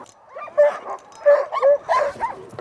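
Excited sled dogs in a kennel in Michigan's Upper Peninsula yip, whine and bark in quick, uneven bursts, close and fairly loud, with several voices overlapping.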